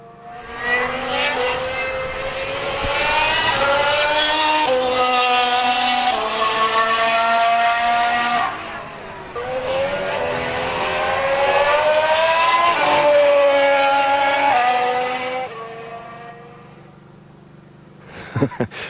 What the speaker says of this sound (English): Let's just have a quick listen into how the cars have sounded this season.